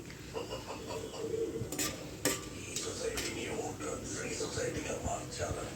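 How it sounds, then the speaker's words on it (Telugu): Biryani spices frying in hot oil in a pan, with a moderate sizzle, quick stirring and clinks of a utensil against the pan, and a voice talking over the cooking. "ఆయిల్ వేడిగైన తర్వాత బిర్యానీ మసాలాలు ఈ ఆయిల్లో వేసి అయితే ఫ్రై చేసుకుంటున్నానండి"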